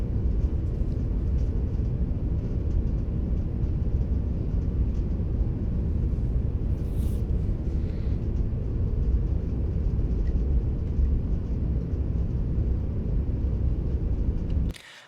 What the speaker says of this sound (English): It sounds like sitting in the cabin of a plane.